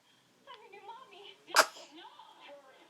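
A single sharp sneeze bursts out near the middle, loud and close, between stretches of soft talking from a woman and a child in a home.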